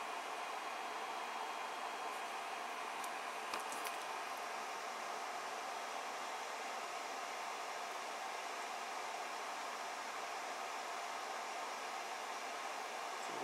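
A humidity removal unit runs nonstop, its fan giving a steady, even whoosh of blowing warm air that stays constant and fairly close throughout, with no talking.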